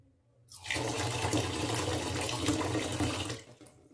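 Water pours steadily into a nesting cooking pot with rice for about three seconds, a close, full splashing rush that starts abruptly and eases off at the end.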